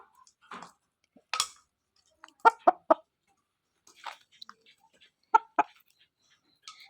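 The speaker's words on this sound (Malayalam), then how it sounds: "ഇത് ഒറിജിനൽ കരിങ്കോഴി തന്നെയാണ്" A black Kadaknath chicken clucks in short, scattered bursts separated by quiet pauses, close by, with a few sharper calls and soft rustling between them.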